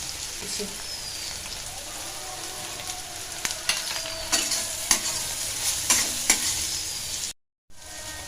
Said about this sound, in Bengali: সর্ষের তেল গরম হয়ে গেছে, এবার করলাগুলো ভেজে নিচ্ছি।